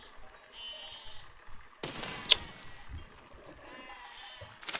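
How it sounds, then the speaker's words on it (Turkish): Sheep bleat in the video game Besiege, short wavering cries heard faintly a few times amid clattering impacts and a sharp crash, with no talk over them. "Durun koyunlar durun."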